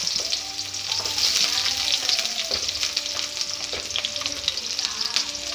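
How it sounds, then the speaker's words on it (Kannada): Chopped onion frying in a pan while being stirred, with a steady close sizzle and occasional scraping under a continuous hiss; no talking. "ಬಾಣಲೆಗೆ ಹಾಕ್ಕೊಂಡು ಕಟ್ ಮಾಡಿ ಇಟ್ಕೊಂಡಿರುವ 1 ಈರುಳ್ಳಿ ಹಾಕಿ ಚೆನ್ನಾಗಿ ಫ್ರೈ ಮಾಡಬೇಕು"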